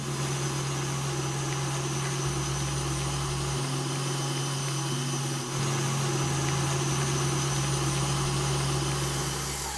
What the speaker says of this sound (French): je vais y ajouter les 70 g de sucre pour enfin fouetter l'ensemble à vitesse moyenne